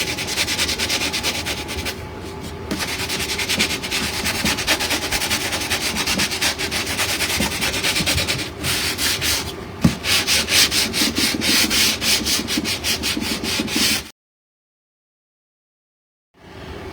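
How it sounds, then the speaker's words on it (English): Steady back-and-forth rasping of sandpaper on a wood board by hand, continuous strokes for about fourteen seconds, fairly close, then a sudden drop to silence near the end. "Now I'm going through here and I'm sanding."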